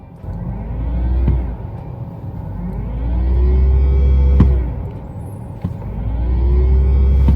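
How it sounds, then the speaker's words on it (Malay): Simulated engine sound from a Mercedes-Benz EQE electric car: a soft, synthetic hum rises and falls in three smooth revving swells as the throttle is pressed while the car stays parked, heard close with no talking. "ada bunyi fake RPM."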